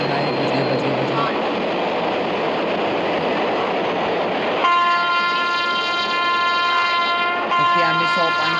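WAP-7 electric locomotive horn in an Indian railway simulator game: a steady running-train rumble, then a loud, sustained, multi-tone horn blast starting about halfway through and lasting to the end.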